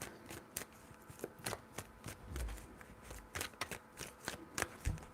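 Tarot cards shuffled by hand in a series of crisp riffling bursts and soft slaps, close and fairly quiet, with brief pauses between shuffles and no talking.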